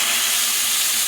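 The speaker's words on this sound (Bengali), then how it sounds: "এখন দেবো কড়াইতে সর্ষের তেল মশলাটা ভাজার জন্য।" Masala fries in mustard oil in a kadai, giving a loud, dense, unbroken sizzling hiss heard close up, with no voices.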